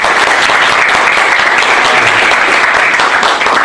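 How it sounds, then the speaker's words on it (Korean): A live audience at an AfreecaTV Open Space offline event in Korea gives loud, sustained applause, a dense continuous roar of many hands clapping close by with no break. "큰 박수 한번 부탁드리겠습니다"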